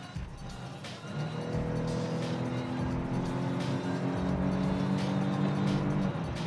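A 2020 Volvo XC60 T5 SUV pulls away under acceleration, its engine note rising steadily and droning loud inside the cabin over about six seconds.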